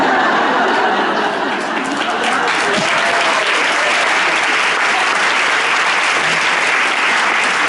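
An audience applauds steadily and loudly throughout, a dense wash of clapping with a few faint chuckles mixed in.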